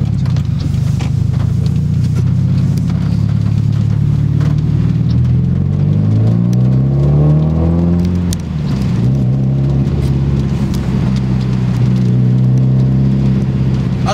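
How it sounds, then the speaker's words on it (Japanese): A Subaru WRX STI (VAB) engine revs loudly through a deep, throaty aftermarket exhaust in the rain, pitch rising and falling as it accelerates, then settling into a steady rumble. "マフラーの音これくらいでかくなったら歩行者の人がね、みんな注意してくれます。"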